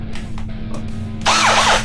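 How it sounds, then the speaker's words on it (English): A Milwaukee power drill, used for cleaning the bore of a Steyr M95 Mannlicher carbine barrel during restoration, whirs in one loud burst near the end after a quieter stretch of handling noise. "Milwaukee drill. The reason the drill is here is for the bore of the barrel itself"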